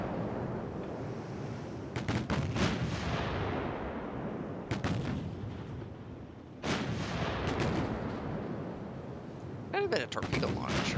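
In the naval warship battle game Ultimate Admiral Dreadnoughts, a torpedo hits and explosions follow. Several heavy booming blasts land a few seconds apart over a constant battle rumble, while someone talks throughout.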